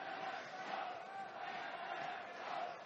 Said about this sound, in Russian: Слышим и наших болельщиков.